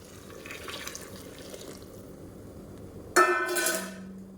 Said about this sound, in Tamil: சுடு தண்ணியாக நல்லா கொதிக்கிற தண்ணியை சேர்த்துக்கோங்க